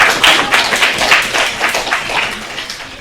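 Audience applause after a university lecture on developmental states, a steady burst of many hands clapping that gradually tapers off over a few seconds.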